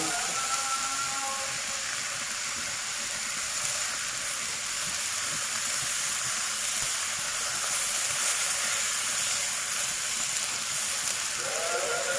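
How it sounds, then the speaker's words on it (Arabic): Hot water from a kettle is poured into a cooking pot of rice and browned vermicelli, a steady hissing, splashing stream that carries on evenly and close up, with no talk. "احط لها بقى ميه، دي ميه من الكاتل"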